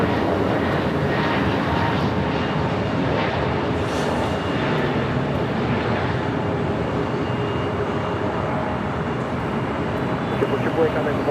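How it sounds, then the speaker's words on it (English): An Airbus A321neo airliner of American Airlines rolling down runway 25 right at LAX for takeoff, a broad continuous jet engine roar at a distance, with voices speaking over it. "A321 Neo now rolling down 25 right."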